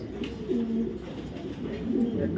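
Low, throaty cooing of racing pigeons, a couple of repeated rolling coos close by, with faint voices in the background.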